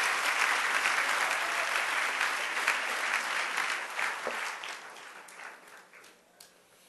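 Applause from a church congregation during a Purim celebration service, a dense steady clatter of many hands that gradually thins and fades toward the end.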